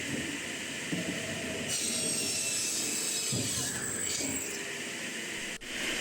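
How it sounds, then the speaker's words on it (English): A rotary veneer peeling machine spins a log against a sharp knife, shaving off a continuous thin wood sheet with a steady, loud industrial hiss and rumble, broken by a brief clunk near the end. "the spindle spins the log while the blade gradually advances, shaving thin layers off in a continuous sheet"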